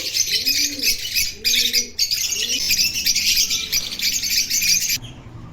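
Birds chirp in a dense, high, continuous chorus inside a bird room, while near it low cooing comes in three rolling bursts before the chatter cuts off abruptly.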